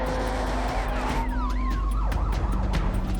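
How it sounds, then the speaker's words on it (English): Police sirens wail and sweep up and down in pitch at Bondi, overlapping and fairly loud over steady traffic rumble. "Sirens lit up Bondi."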